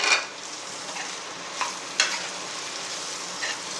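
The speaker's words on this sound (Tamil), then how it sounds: "இந்த ஸ்டேஜில் மீன் மக்கரை போட்டு கொஞ்சம் நேரம் ஃப்ரை பண்ணிக்கிட்டே இருங்க" Soya chunks fry in a pan with curry leaves, giving a soft steady sizzle broken by a few sharp scrapes and clicks from stirring.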